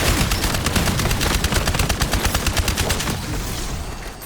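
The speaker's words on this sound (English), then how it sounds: "to give you a demonstration of how broken this is with rapid fire" Rapid binary-trigger gunfire from Black Ops 4, a fast, dense string of loud close-range shots that fires for about three seconds and then trails off.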